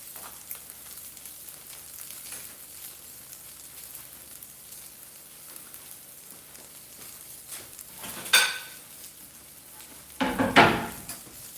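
Jamaican fritters frying in a pot of oil for breakfast, a steady low sizzle and crackle throughout, with two sharper bursts of spattering near the end.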